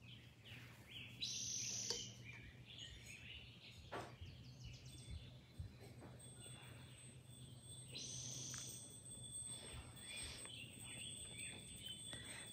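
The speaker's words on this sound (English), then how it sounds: "just so you can hear the birds." Birds sing and chirp in the green backyard of an ashram in spring, with bright repeated calls rising at intervals over a soft steady outdoor hum; no talking.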